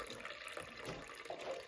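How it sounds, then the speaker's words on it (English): Water is poured into a sourdough bread dough mixture, a short, soft trickle and splash heard faintly up close. "so then we're gonna add our water for our dough mixture"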